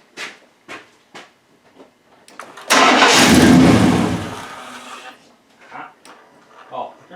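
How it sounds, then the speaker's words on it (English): A car engine cranks and roars to life, runs loudly for a couple of seconds, then cuts off; a person talks before and after. "for that, you need the engine running."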